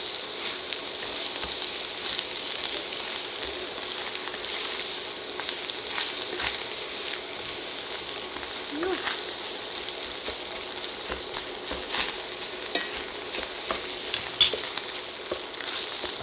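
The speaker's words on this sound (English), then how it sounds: "add some of this cream cheese to the meat mixture and just get it melted in right in there." Cream cheese being melted and stirred into a sizzling chorizo meat mixture for breakfast stuffed mushrooms, a steady close frying hiss with occasional light scrapes of the utensil.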